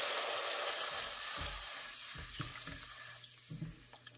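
A cup of water goes into a pot of onion coated with chili flakes for sundubu jjigae: a loud, rushing hiss that gradually settles into softer sizzling with a few light knocks.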